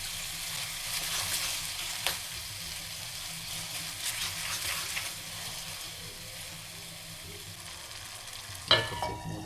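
Tomato pieces frying in a pan, a steady broadband sizzle with soft stirring scrapes, one sharp clatter near the end, no voices.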